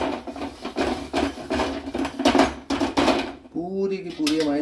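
Cotton wad rubbed around a brass wok coated with ammonium chloride during tinning, making rapid rhythmic scrubbing and rasping strokes close by, with a sizzling hiss near the end and a person talking over it.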